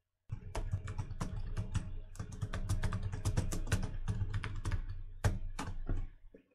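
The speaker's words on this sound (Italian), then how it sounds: "Ora posso digitare tranquillamente Associazione Culturale Maggiolina e verrà scritto tutto in grande." Keys on a computer keyboard are typed rapidly and continuously, with dense close clicks and a few brief pauses between bursts. No one speaks.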